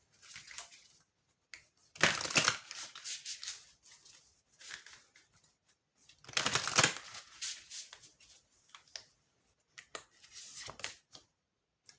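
Cards are shuffled close up in several quick riffling bursts, separated by short pauses and softer handling sounds.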